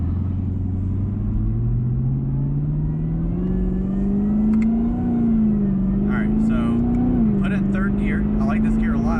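A 2021 Chevrolet Camaro ZL1 1LE engine climbs steadily in pitch as it accelerates through a gear, loud and close from the cabin, briefly easing then pulling again, with a person speaking near the end.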